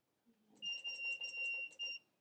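A heat press timer alarm beeps in a quick run of about six bright, evenly spaced electronic tones, close and clear in an otherwise quiet room.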